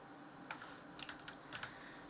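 Keys clack on a computer keyboard in a few quick, light clusters of keystrokes, fairly close but soft, over a faint steady background hiss with no one talking.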